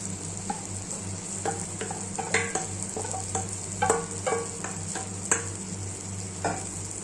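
Blanched leaves are stirred into a green chicken curry in a pan, a spoon clinking and scraping in scattered bursts over a constant low hum and a faint, even sizzle.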